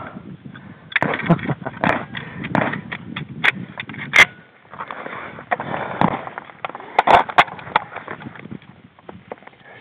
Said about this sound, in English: I can shoot slugs from here?